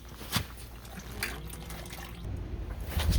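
Coolant drains from a 2014 Camaro SS 1LE in a garage, a soft, steady trickle and splash running continuously at low volume, with a few faint clicks and handling noises.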